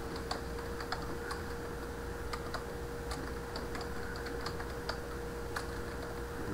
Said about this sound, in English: in the search box, I'm going to type restricted extras.